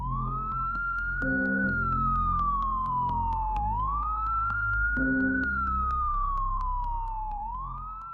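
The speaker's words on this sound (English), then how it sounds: "Ambulance 救护车。" A wailing emergency siren, rising and falling in long, slow sweeps, loud and close, sounding twice over a low steady rumble with no voices.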